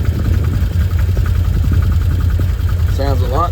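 A Can-Am Commander 800XT side-by-side engine idles just after a spark plug change, a steady low rumble running throughout, with a short chirping warning tone near the end.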